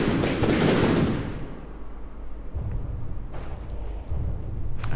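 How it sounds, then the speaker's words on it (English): Aircraft guns in From The Depths fire in a loud dense burst of rapid shots for about a second, followed by scattered lower rumbling impacts and a few sharp cracks near the end. "we're coming in with the guns and the missiles"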